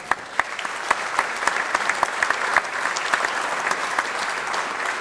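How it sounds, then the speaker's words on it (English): A room full of people at a chamber of commerce small business awards ceremony applauds the Renaissance Golf Club, a steady, dense wash of clapping with a few sharper claps standing out near the front. "give Renaissance Golf Club a round of applause"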